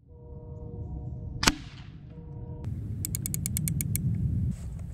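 Daystate Pulsar bullpup PCP air rifle firing an 18-grain pellet at 50 yards: one sharp, loud crack, followed by a faint ringing tail, then mechanical clicking and a quick rattling series a little later.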